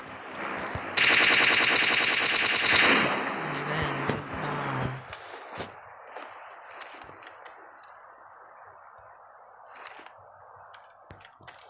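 Automatic gunfire in PUBG rattles out as one loud, rapid burst lasting about two seconds, followed by quieter scattered clicks, footsteps and small game sounds.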